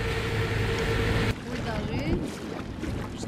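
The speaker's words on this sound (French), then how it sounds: "On a mis les deux moteurs, puis pour l'instant on roule assez vite" Boat cruising fast with both outboard motors running, a loud steady engine drone with wind rushing over the microphone and water noise, dropping slightly after a sudden shift partway through.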